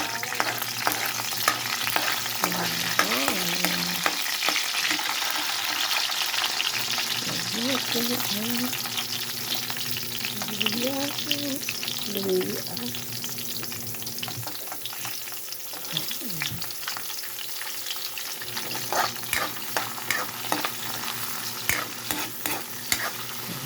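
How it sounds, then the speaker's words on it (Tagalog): Stirring and frying in a hot pan while sautéing for a milkfish (bangus) dish with vegetables, a steady sizzle with scraping spatula strokes throughout, and brief bits of voice in the background. "gisa natin"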